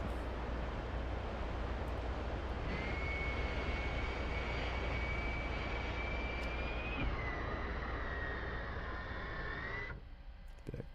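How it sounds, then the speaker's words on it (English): A single F/A-18 jet in the DCS World combat flight simulator spools up for takeoff, its steady loud roar and rising engine whine holding close and continuous, then the tone steps down and fades near the end. "Oh, he's getting ready to take off."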